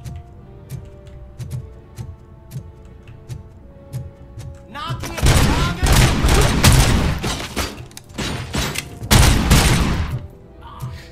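Gunfire erupts in the video game Robocop Rogue City. Scattered single shots come first. Then dense, loud bursts of rapid fire and booming impacts continue in clusters until near the end, with someone talking over parts of it.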